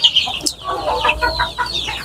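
Farm chickens cluck and chirp close by in short busy bursts, with a few sharp higher calls among them.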